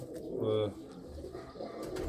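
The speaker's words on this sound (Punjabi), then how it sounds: "ਦੇਖੋ ਬਈ ਛੋਟੀ ਜੀ ਕਬੂਤਰੀ ਆ" A small female pigeon with red eyes coos in a few soft, low throaty bursts, close by, amid light background noise.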